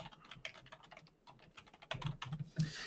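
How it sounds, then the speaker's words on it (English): Fingers type a user ID and password on a computer keyboard, producing a quick, irregular run of close, soft key clicks that grows slightly louder and denser toward the end, with no talking. "So I'm going to go ahead and type in my user ID and password."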